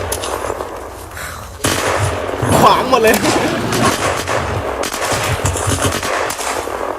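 Gunfire and explosions in the video game Unturned: rapid bursts of shots and a heavy blast, loud and close, with a player talking excitedly over the action.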